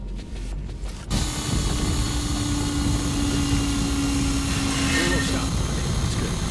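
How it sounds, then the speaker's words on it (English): In the Call of Duty: Ghosts mission Clockwork, a power drill starts up abruptly and holds a steady mechanical whine over dense rumbling background noise. "There's a back trip plate, so don't drill too far."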